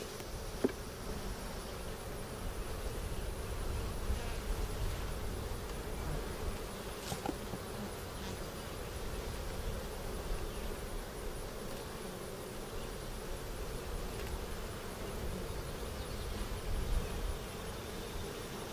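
Honeybees buzz steadily around a hive frame up close, a continuous soft droning hum from many insects with no talking, fairly quiet and even throughout.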